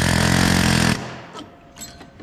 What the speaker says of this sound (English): we like to take the air hammer and just knock out a